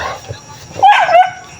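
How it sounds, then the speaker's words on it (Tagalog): Dogs bark and yelp in an excited burst beside a rough rural road, loud and close for about half a second before trailing off, with someone talking before and around it. "nagwala na yung mga aso dito"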